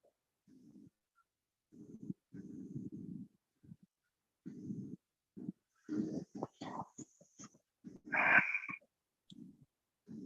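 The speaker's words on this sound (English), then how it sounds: "sound of breathing." Breathing picked up by an online call microphone, a series of short low puffs and breaths coming in bursts, close to the mic, with one louder rasping breath near the end and no talking.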